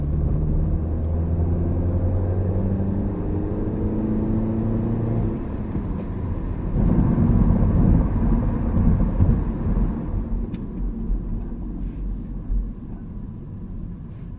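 Low, droning engine and exhaust rumble from inside a moving 2017 Mini Cooper S, steady throughout and swelling briefly midway, with no voices.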